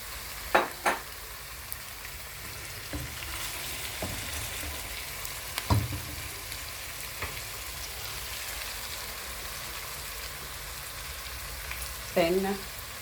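Tomatoes added to pork frying in a pan for a Kenyan pork wet fry give a steady, soft sizzle throughout, with a few clinks and stirring knocks near the start and end.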